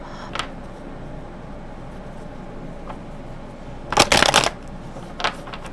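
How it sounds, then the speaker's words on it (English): Oracle and tarot cards being shuffled at a reading, a loud burst of riffling around the middle with a few softer card flicks before and after, alone over a quiet room hiss. "I'm just gonna, pop out some oracle cards and then we'll get into the tarot."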